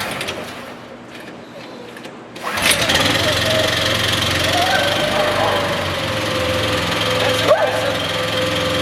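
A small carburetor engine is pull-started after a run-dry, catching around the third second and then running steadily and loudly close by, with a person briefly speaking over the running engine.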